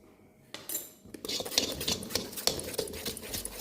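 Metal whisk clattering and scraping in a bowl while mixing chocolate cake batter of flour, cocoa, baking powder and baking soda, a quiet start then steady rapid clinks near the microphone, no voice.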